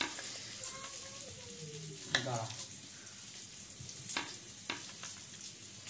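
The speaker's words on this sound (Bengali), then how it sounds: "পেঁয়াজটাকে খুব ভালোভাবে আমি ভেজে নেব।" Onion fries in a pan for chicken feet curry, a soft, quiet sizzle with a few sharp clinks and scrapes of stirring scattered through.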